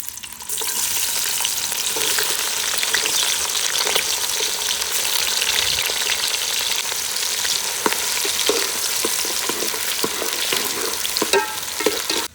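Onions fry in hot ghee with a loud, steady sizzle up close, broken by occasional scraping and stirring clicks, and no one speaks.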